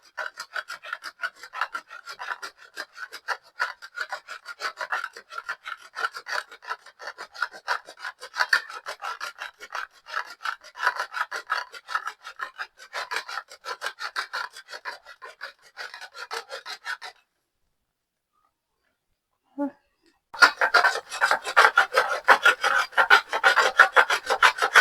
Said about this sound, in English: can also grate our cheese as we wait.